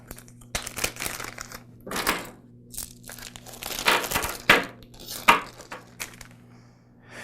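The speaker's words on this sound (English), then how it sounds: "I'm just going to take some small parts bags and label them as to the assembly that I'm working on. And then I'll place the parts into that bag." Small transmission parts from a Troy-Bilt small frame tiller being dropped into small plastic parts bags, with irregular bursts of crinkling plastic and light clicks separated by quiet pauses, close up and with no talking.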